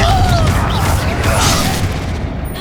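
The Confringo fire spell bursts in Hogwarts Legacy combat: a loud, continuous blasting roar with crashing bursts throughout, dense and close, tapering slightly toward the end.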